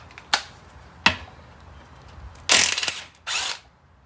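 During a Polaris Ranger 700 engine teardown, a socket wrench clicks twice sharply. A short buzzing ratchet run and one more brief burst follow. The sounds are close by, with quiet gaps between them, and no one talks.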